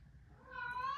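A pet cat gives a single short, faint, rising meow, heard alone.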